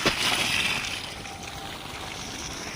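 Water splashes and sloshes as it is bailed out by hand from a water-filled ditch in a field, one brief throw followed by trickling, flowing water.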